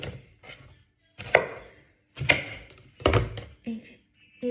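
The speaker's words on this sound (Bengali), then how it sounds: "এখানে লাউগুলো এই যে একটু বড় বড় করে কাটছি" Bottle gourd is chopped into large pieces with a knife, four or five distinct thudding cuts spaced about a second apart, close and crisp with some faint background sound.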